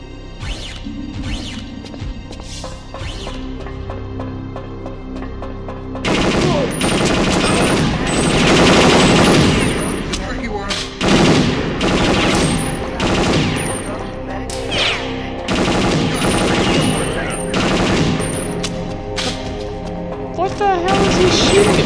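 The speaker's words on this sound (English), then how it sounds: "Sound like bullets." Gunfire from the Area 51 video game: bursts of rapid automatic shots and sharp cracks, loud and close, starting sparse and then turning into a dense sustained barrage with impacts between volleys.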